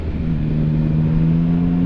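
A Yamaha Tracer 9 motorcycle engine hums steadily while riding, a loud, even drone with a smooth tonal note and wind rush, no talking over it.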